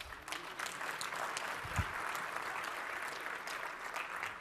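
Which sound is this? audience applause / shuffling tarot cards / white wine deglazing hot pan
audience applause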